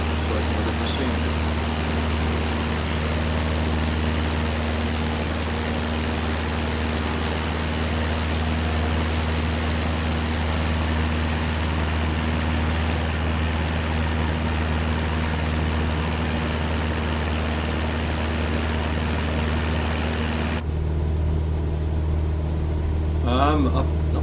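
Light aircraft engine droning steadily in flight with flaps at 10 percent in Microsoft Flight Simulator 2020, a constant broadband roar with low hum that continues unbroken until an abrupt drop near the end.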